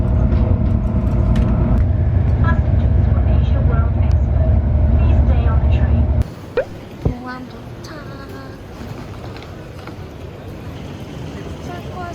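A heavy train rumbles loudly for several seconds as it arrives at a station in Hong Kong, then the noise drops away to quieter open-air ambience with a few brief knocks and faint voices.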